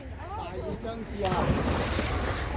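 A boat rocks on choppy water with waves splashing and wind buffeting the microphone, a steady loud wash growing stronger midway, with people's voices audible underneath.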